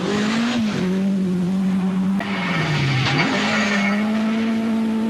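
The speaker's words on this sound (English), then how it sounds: "The new 320 horsepower turbocharged Toyota is making its debut in the World Championship." A 320-horsepower turbocharged Toyota Celica Twincam Turbo Group B rally car, driven by Björn Waldegård on its World Championship rally debut, roars loud and steady with its engine pitch dipping and rising, accompanied by a brief tire skid.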